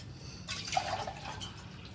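Water is poured into semolina in a home kitchen while prasadam is made for Ganesha. A faint, soft trickle and splash begins partway through and runs briefly at low volume.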